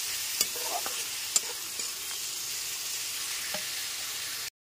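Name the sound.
ginger and garlic frying on gas flame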